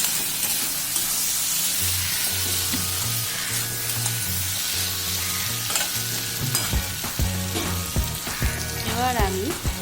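Pointed gourd and prawn curry stirred in a pan, a loud busy sizzle with repeated scraping strokes of a spoon, close, with faint background tones and a sliding whine near the end.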